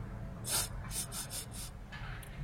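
A wolf sniffs at newborn pups in the snow, a series of quick, close, breathy sniffs in short bursts over a faint low background.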